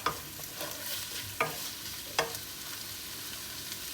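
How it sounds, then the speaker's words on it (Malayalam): A frying biryani mixture is stirred in a pan. Several distinct scraping strokes sound over a soft, steady sizzle, close by and without speech. "ഇതൊന്ന് മിക്സ് ചെയ്യാം കേട്ടോ ഇതിൻ്റെ ഒരു പച്ചമണം മാറണ വരെ പച്ചമണം മാറണ വരെ അല്ല ഇതൊരു ബ്രൗൺ കളർ ആവണ വരെ നമ്മൾ ഇളക്കി കൊടുക്കാം"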